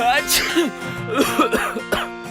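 A few short, harsh coughs break out between stretches of speech, close to the microphone and fairly loud.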